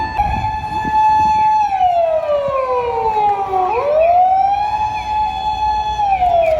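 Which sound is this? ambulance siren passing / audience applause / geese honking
ambulance siren passing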